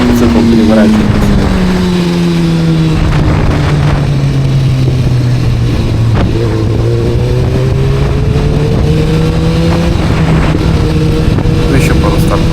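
A Suzuki GSX-R 1000R motorcycle makes a launch-control start: a loud engine holds high revs, sags in pitch, then climbs again, with buffeting wind noise throughout.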